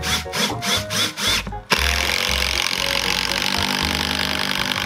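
Power drill driving screws into wooden boards of a terrace under construction, loud and close: several short whirring bursts, then a sharp knock and a sustained steady drilling run.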